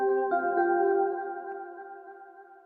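A short synth melody passed through Valhalla delay, overdrive and a filter, with the lows cut and the highs pulled down, plays a few sustained harmonic notes that ring and decay over under three seconds.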